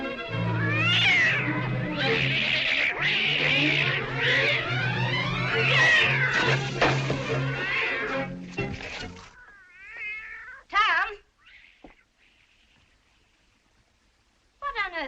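A cat given painkiller meows and caterwauls loudly and wildly, a long run of yowls and howls with crashing thumps, then a few shorter separate cries after a brief quiet.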